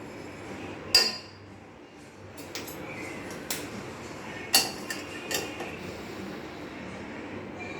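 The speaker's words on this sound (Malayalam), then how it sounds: "ഒന്ന് സ്പൂൺ മാറ്റുന്നതാണ് കേട്ടോ" A spoon is swapped while making flaxseed gel and clinks against a dish. Two sharp, bright clinks stand out, followed by several lighter taps over a quiet background, and no one speaks.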